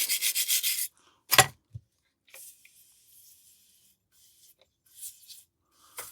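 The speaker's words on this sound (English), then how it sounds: "Let me just give that a scrub on this back side." Scrubbing the back side of a Petter generator part, a short close burst of brushing rasp followed by a few sharp knocks and faint scattered scrubs amid near silence.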